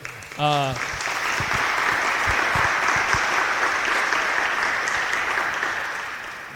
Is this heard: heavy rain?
no